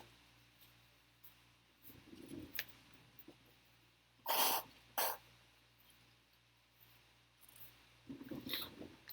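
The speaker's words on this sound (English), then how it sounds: "I got to blow my nose one more time" A person blowing their nose indoors during a quiet equation review lesson, giving two short, loud, breathy honks close to the microphone, with faint rustling and movement before and after.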